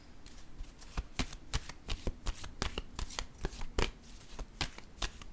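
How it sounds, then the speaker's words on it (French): Playing cards being handled and placed down, a rapid run of sharp, close slaps and flicks in an irregular rhythm, clear and without speech. "Je vais déposer une carte ici."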